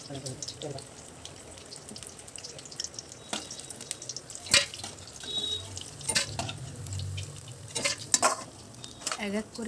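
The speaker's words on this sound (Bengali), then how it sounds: "এদিকে পকোড়াগুলো ভাজা হয়ে গেল" Pakoras fry in hot oil, a soft sizzle under scattered clinks and stirring knocks, with a few faint voices nearby.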